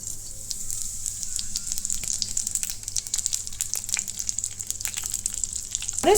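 Radhuni spice seeds hit hot oil in a wok, giving a steady, close hiss of sizzling that crackles on without a break. A sharper burst comes near the end, and no one speaks.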